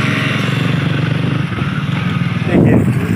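A small children's motorbike runs at speed, its engine giving a steady buzzing drone with a louder surge near the end.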